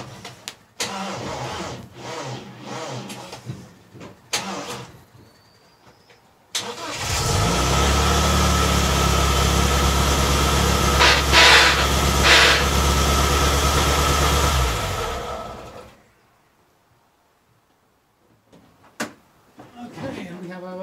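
An MGB GT sports car's engine starts and runs in gear during clutch slave and master cylinder work, a loud steady idle lasting several seconds before cutting out, with clicks and clunks around it and a person talking.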